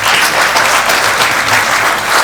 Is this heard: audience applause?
yes